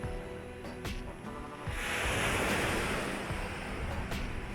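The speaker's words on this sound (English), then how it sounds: "Could hear the sea from the van." Sea waves at Irish coastal cliffs, a continuous broad wash of surf that swells louder in the middle, with wind rumble on the microphone.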